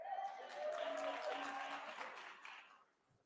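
An audience at the first convention of South Africa's National Dialogue applauds, a swelling burst of clapping that builds, holds and then tapers off, with a voice speaking through it.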